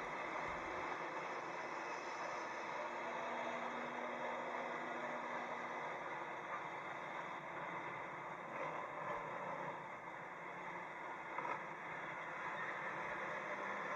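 Earthmoving machinery working loosened ground, with two bulldozers reversing to push a second scraper as it loads; a steady, fairly distant diesel rumble drones throughout with no speech.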